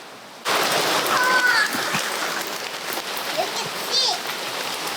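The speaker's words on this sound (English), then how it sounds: "It's raining today." Steady rain pours down on an island in the Philippines, a dense, close hiss of drops splattering on surfaces that starts abruptly and continues evenly, with faint voices now and then.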